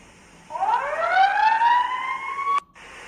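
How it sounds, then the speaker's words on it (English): A fire truck siren in Chicago rises in a single long upward wail for about two seconds, loud and fairly close, then cuts off abruptly. "Oh, it looks like fire truck's leaving."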